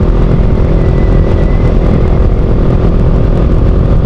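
A motorcycle rides along a road near Sacobia Bridge in New Clark City, its engine a loud, steady rumble with continuous road and wind noise close up and no talking.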